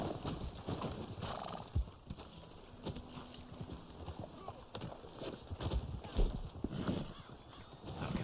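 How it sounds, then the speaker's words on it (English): Horse hooves clip-clop steadily and a horse neighs in the video game Red Dead Online, with someone talking over the game sounds throughout. "let me feed my horse something because my horse is about to die here"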